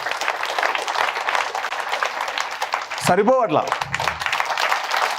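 A lecture audience claps for the author Richard Bach, a dense, steady round of applause filling the room throughout, with a brief voice rising over it midway.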